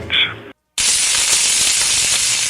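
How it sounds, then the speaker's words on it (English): A loud sizzling sound effect like skin cooking in August Florida heat rises after a brief silence and holds as a steady bright hiss, following a short voice fragment. "That's the sound of your skin cooking."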